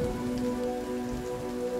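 Steady rain falls in Sons of the Forest, a constant close patter on surfaces with no talk.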